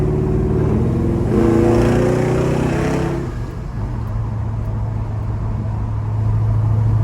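A 1972 Chevrolet Chevelle engine hums steadily at about 50 mph cruising speed from inside the cabin, swelling briefly as it accelerates, then settling into a low, even drone.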